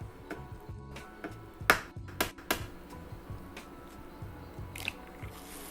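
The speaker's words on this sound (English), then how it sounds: "Now go ahead and add your egg" An egg going into a hot breakfast pan: a few soft wet cracks and squishy plops with sharp clicks, followed by faint intermittent ticking and crackle, close and quiet with no speech.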